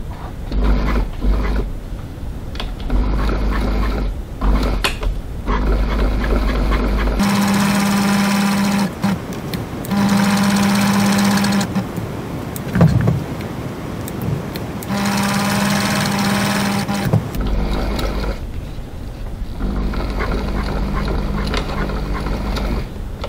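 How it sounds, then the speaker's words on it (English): A sewing machine top stitches a leather wallet panel, running in long steady mechanical bursts with short pauses between them. A lower hum rises and falls through each run. "now I'm going to top stitch this into place, 3 millimeters, 1/8 of an inch from the edge"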